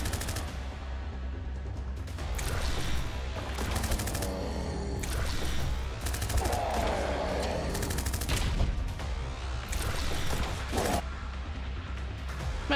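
Automatic gunfire in the shooter game Corrupted: Dawn of Havoc, sustained rapid bursts fired at an enemy with brief pauses, over a low steady game background hum.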